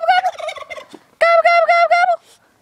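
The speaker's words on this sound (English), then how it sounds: "Are you not gonna gobble back, turkey?" Wild turkey gobbling close by, two loud rattling gobbles, the second stronger and more sustained, with no talk over them.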